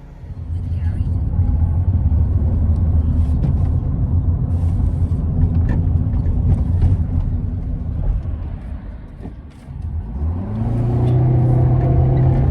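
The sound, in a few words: small manual car driving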